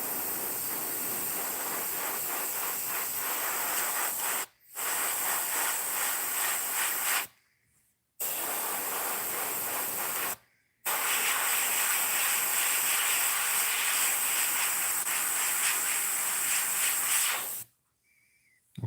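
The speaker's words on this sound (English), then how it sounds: "Let's spray the front." An airbrush sprays paint onto a musky crankbait lure, a steady close hiss running in long bursts of several seconds each, separated by brief silent pauses.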